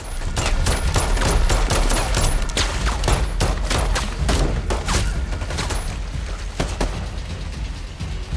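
Rapid bursts of pistol gunfire crack continuously throughout, loud and close, with sharp repeated shots blending into a sustained volley.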